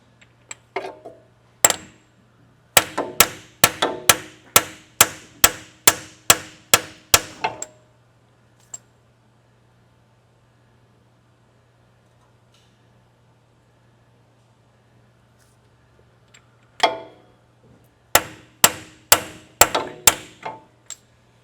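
Metal hammer blows during a Toyota repair, a quick run of about a dozen sharp ringing strikes, a long quiet gap with a single tap, then another burst of rapid strikes, close and loud.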